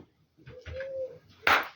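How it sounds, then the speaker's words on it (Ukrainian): A soft pigeon coo, low and rounded, followed by a brief rustling burst, like a bird stirring nearby. "Ще й голуб співає."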